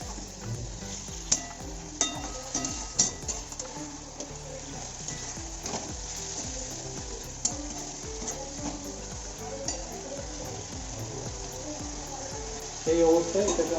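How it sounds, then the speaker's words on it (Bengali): Chicken meat for a Bengali-style kosha curry is stirred with added water in a pan, giving a steady sizzle and bubbling with intermittent spoon scrapes and clinks against the metal, close and fairly loud throughout. "জল দেওয়ার পর একটু ভালো করে মাংসটাকে জলের সঙ্গে নাড়িয়ে"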